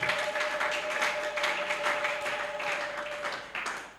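A church congregation applauds in praise, producing a dense, rapid stretch of clapping that continues steadily and fades toward the end, with a faint voice underneath.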